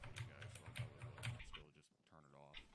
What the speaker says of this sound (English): Someone's got a loud keyboard going on.